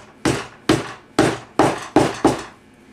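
A hammer taps upholstery nails into a chair frame with six sharp, evenly spaced blows, close and loud, each followed by a short decay, with no talking.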